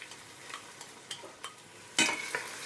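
Chopped white and red onions frying in olive oil for a fish sayadieh dish, stirred with a few soft scrapes and a sharper clatter near the end over a faint, quiet sizzle, with no talking.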